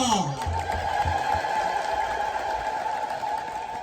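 Congregation ululating at a feast of Saint Michael the Archangel in an Ethiopian Orthodox church: a sustained, high, trilling chorus of many voices that holds steady and fairly loud throughout.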